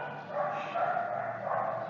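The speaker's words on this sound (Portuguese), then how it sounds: "cachorro latindo" Dog barking in the distance, a few short yips and barks over a muffled background hum.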